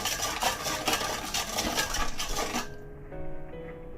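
Sugar and warm milk are stirred in a bowl. A utensil scrapes and clinks against the sides in a quick rhythmic swirl for a few seconds, then it stops and leaves a quiet room.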